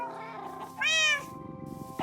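A cat in the Minecraft video game lets out one clear, close meow, with the game's quiet background sounds before and after.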